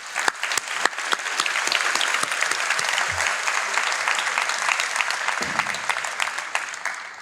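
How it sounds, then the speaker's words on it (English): Sustained applause from a large audience at an executive MBA graduation ceremony in Philadelphia, dense clapping building and holding steady with a few sharp individual claps standing out, with no talk over it. "let's give all of you a round of applause"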